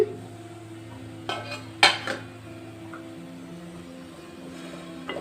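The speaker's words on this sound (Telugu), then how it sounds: "నెయ్యి అంతా పట్టే వరకు కదుపుకుందాం." A spoon scrapes and clanks against a pan as a sweet mixture is stirred in ghee, with a few sharp metallic knocks and soft scraping over a quiet background hum.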